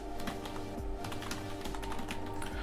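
Rapid, steady keystrokes on a computer keyboard while a code comment is typed into a Photoshop script. The clicks are soft and close, with a low background hum and no speech.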